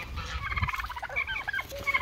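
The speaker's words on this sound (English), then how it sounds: "What are them turkeys doing over there?" Turkeys in a farm pen, a cluster of rapid, warbling gobbles coming in quick bursts at moderate distance, with faint background rustle.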